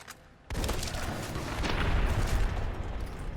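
Dense, booming bursts of gunfire in Fallout: New Vegas erupt after a brief quiet moment and keep going, loud and continuous with heavy low rumble.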